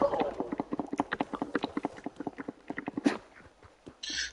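A horse's hooves clip-clopping at a walking pace in Red Dead Redemption 2, a quick steady run of soft close hoofbeats that slows and fades near the end, with a brief voice.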